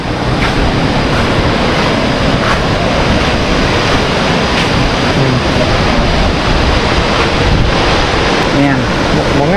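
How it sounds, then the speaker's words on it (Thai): Steady, loud roar of a waterfall dropping from a high cliff, Soi Sawan Falls in Khong Chiam, Thailand, fills the whole stretch, a dense constant rush with faint wind noise and no clear breaks. "เป็นน้ำตกที่ตกมาจาก ผาสูงเลยนะครับ"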